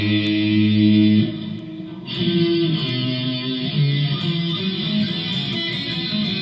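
Guitar runs through a pentatonic blues scale, a sustained low note giving way to a string of single picked notes with a reverb-washed tone, fairly loud and with no talking.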